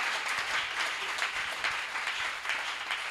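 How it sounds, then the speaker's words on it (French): A church congregation applauds in praise of the Lord, a continuous patter of many hands clapping at moderate distance, fairly soft and even throughout. "Acclame encore pour le Seigneur"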